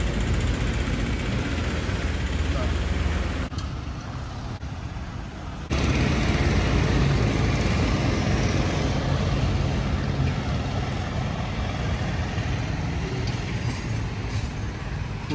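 A road line marking vehicle works on the NH 66 highway construction site in Malappuram, its engine running as a loud, steady rumble throughout, with a brief dip in level partway through and no talk.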